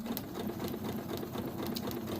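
A sewing machine stitching fabric on a sharp corner, a steady rapid mechanical whir and patter running continuously at close range with no talk.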